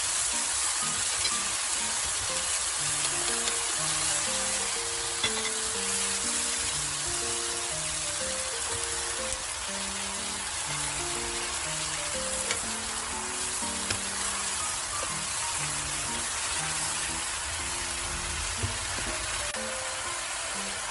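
Steady, dense sizzle of mixed vegetables stir-frying in a wok with a splash of water, for a vegetable and glass-noodle casserole, loud and continuous with faint utensil clinks and no talking.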